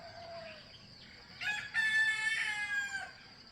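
A rooster crows once at middling distance in Moorea, a long rising and falling call over steady outdoor ambience, with a thin bird whistle heard faintly before it.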